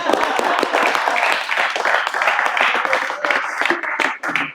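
A cricket team claps and cheers together in a happy dressing room after a T20 international, dense overlapping applause running steadily throughout with a few voices mixed in near the end.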